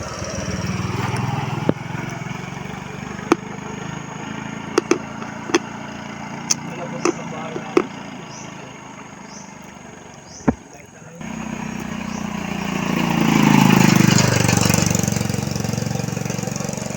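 Motorcycle engines on a rural road between barangays Inalusan and Silang in Lopez, Quezon, a steady mid-distance drone with scattered sharp knocks, then an engine swelling louder near the end, with people talking over it.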